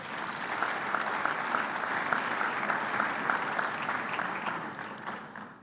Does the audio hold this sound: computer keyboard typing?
no